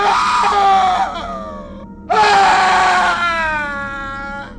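A loud, anguished wailing cry rises sharply, breaks off, then returns with a second long, sliding scream, like a man shrieking in terror during a gory horror tale.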